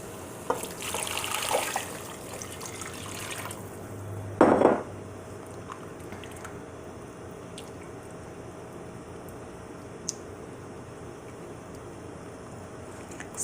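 Water pours in a short splashing burst into a pot of shrimp asopao, then gives way to faint clinks and small kitchen sounds in a quiet room.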